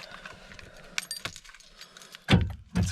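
A set of keys jangles in light, scattered clinks, ending with two heavier rattling shakes close by.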